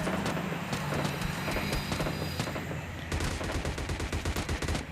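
Gunfire in the video game PUBG Lite, with a stadium fight during looting: dense bursts of rapid automatic shots, first a chattering stretch and then a louder, quicker burst, close and continuous.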